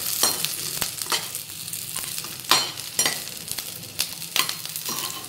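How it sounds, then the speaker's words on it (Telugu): Onions and green chillies fry in a pan for gobi manchurian, giving a close, steady crackling sizzle with frequent scraping stirs and spoon clatters throughout. "అవన్నీ ఇప్పుడు వేసుకొని ఫ్రై చేసుకోవాలి. ఆనియన్స్ అలాగే పచ్చిమిర్చి బాగా వేగాలి."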